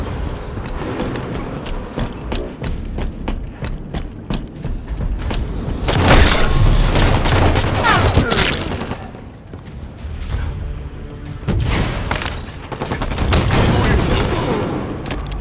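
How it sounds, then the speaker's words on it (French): Gunfire and explosions in the video game Halo 5, heavy booming blasts and bursts of shots that swell loudly in waves, layered with game effects and voices talking. "On lui tire dessus."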